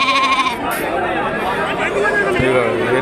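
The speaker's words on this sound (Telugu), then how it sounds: "ఇవన్నీ తెల్ల సైజు పొట్టేళ్ళు." Young rams and sheep bleat at a busy livestock market in Kunta, several loud, wavering calls close by amid crowd chatter and voices talking.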